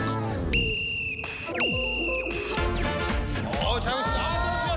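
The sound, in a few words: whistle blown to start a game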